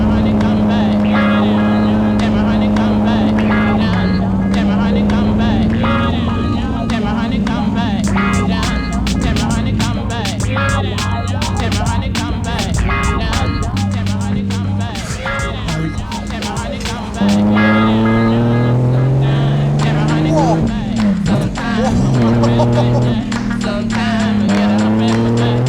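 A Ferrari car engine revving loud and close, its pitch climbing and falling through repeated gear changes for about twenty-five seconds with no pauses, the harmonics sweeping up and down as it accelerates and shifts.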